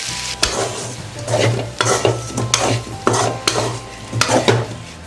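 Taro root pieces fry in oil while being stirred, a steady close sizzle broken by repeated scraping strokes of a spoon against the pan in an uneven rhythm, with no talking.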